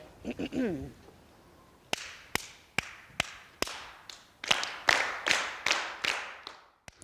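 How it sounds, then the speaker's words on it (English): Sharp hand claps in a call-and-response rhythm lesson: a brief spoken cue, then one clapper sets a pattern and others clap it back, about a dozen crisp, fairly close claps in uneven groupings. "I'm going to clap a rhythm to you, and I want you to clap that rhythm back to me"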